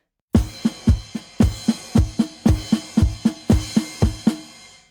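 Crisp, evenly spaced drum strokes from a beat land together in a steady rhythm, about a dozen sharp hits, close and loud with no talking.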